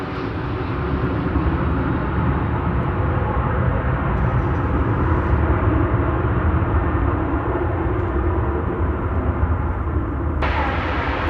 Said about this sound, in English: we've got the One World livery of Japan Airlines coming in from Tokyo